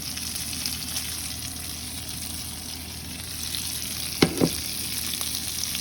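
Toasted pasta frying in a pan for Catalan fideuà, a steady close sizzle that runs throughout, broken near the end by two brief louder clatters of stirring.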